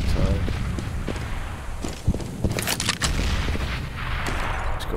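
Pistol shots crack in a round of the video game CS:GO, several sharp reports scattered over a dense background of game noise.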